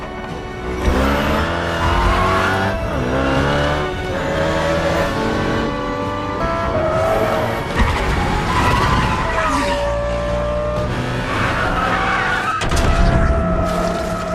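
Racing cars from the Need for Speed film skid and squeal their tires while engines rev and roar in a dense, continuous mix with music and voices throughout.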